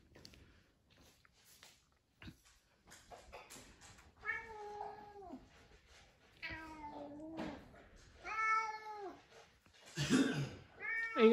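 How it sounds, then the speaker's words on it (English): A house cat meows several times during a move out of an old house, drawn-out, rising-and-falling cries spaced across the stretch, growing louder toward the end, with a soft cough-like noise and faint movement in the background. "Yeah, I brought your cat, Bowie."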